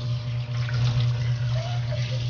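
A giant trevally fish rinsed under running water in a kitchen, a steady continuous splash and gush with a low constant hum beneath it.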